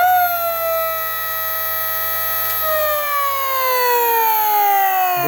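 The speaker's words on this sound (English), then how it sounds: "you need to push it a bit just to let the motor run" Electric hub motor of a penny board spinning up, a steady high-pitched whine with layered tones that slowly shift in pitch, heard up close and alone without talking.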